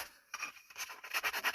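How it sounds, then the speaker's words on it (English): Sandpaper rubs across small wood pieces for an art caddy, a few short, close scratchy strokes that start after a brief pause and grow quicker and louder. "So you can use sandpaper and a sanding block too"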